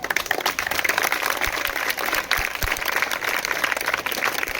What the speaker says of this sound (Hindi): एक बार सब खड़े होकर अपने लिए ताली हो गए